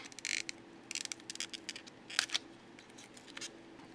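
Cardboard tool packaging for Japanese bits and knives being opened and tape peeled off, heard as quiet, irregular crinkles, rips and scrapes in short bursts close by, with no talking.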